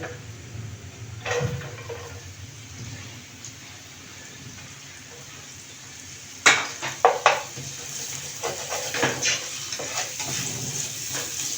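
Square-cut onion fries in a pan for paneer and vegetable pulao, a soft, even sizzle that swells into loud scraping stirs and metallic clatter after about six seconds, then settles back to a steady fry.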